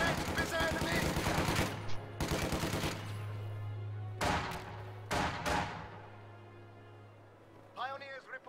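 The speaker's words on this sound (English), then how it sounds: "The MG42 is hitting the field now." MG42 machine gun in a video game firing several bursts of rapid automatic fire, loud and close, with sharp impacts between bursts, a steady low hum and occasional speech-like game sounds underneath.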